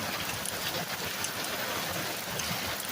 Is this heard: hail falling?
yes